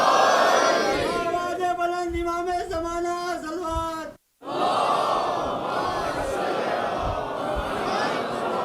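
An audience at a majlis in Sharjah chants religious slogans in loud unison, sustained voices rising together, then breaks off briefly before a roaring crowd response swells back.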